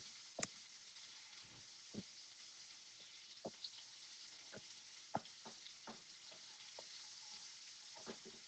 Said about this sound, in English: And we move to our zucchini that are cooking away, frying away.